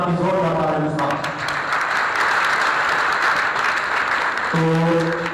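An audience gives a burst of loud, dense applause lasting several seconds, with a voice speaking just before it starts and again as it dies down.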